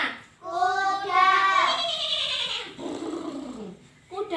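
A human voice imitates a horse's neigh during a children's story about Noah's ark, a drawn-out whinnying call with a falling tail, close and clear, followed by a short breath.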